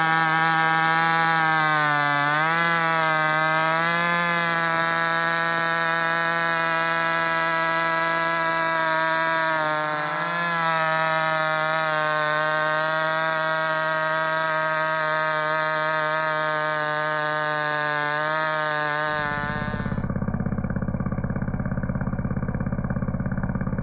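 A chainsaw engine drones loud and steady at high revs while cutting firewood and drawing in sawdust, its pitch wavering slightly before the sound shifts to a lower rumble near the end.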